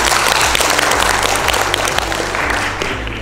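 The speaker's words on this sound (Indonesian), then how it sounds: "Tepuk tangan dulu ya." Dense crowd applause from an audience at a Hanura party regional meeting in Bali, loud and sustained with a low hum or music underneath, fading slightly toward the end, no talk.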